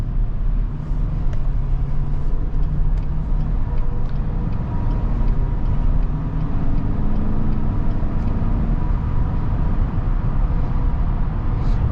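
A 2022 Chevy Silverado 1500 truck driving in sport mode, heard as a steady, continuous low engine and road rumble from inside the cab with no breaks or talk.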